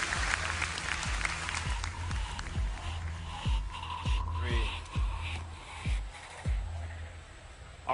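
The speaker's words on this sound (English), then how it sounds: "Everybody give them a round of applause." A crowd applauds continuously, a full wash of clapping, while low thumps recur about every half second beneath it.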